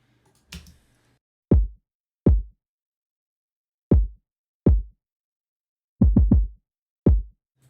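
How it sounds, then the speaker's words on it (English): Deep, punchy bit-crushed kick drum hits play alone in a loose pattern, single thumps spaced apart and then a quick burst of four, each short and heavy. "made it this punchy, crazy sound that ended up becoming like my go to kick drum"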